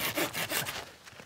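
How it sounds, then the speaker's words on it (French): A small pruning saw rasps through a dry lilac branch in a few quick back-and-forth strokes, close and distinct, trailing off near the end. "et ça simplement avec une petite scie à élaguer."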